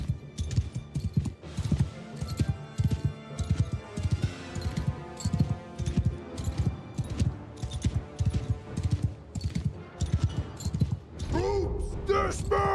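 Cavalry horses galloping in the video game Bannerlord, a rapid, steady run of clip-clop hoofbeats close by, with a horse whinny near the end.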